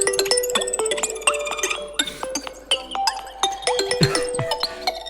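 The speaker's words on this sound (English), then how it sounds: "So the first ringtone we've got is..." A bright, twinkling phone ringtone, a melody of quick chiming notes, plays clearly, loud and continuous, with no voices.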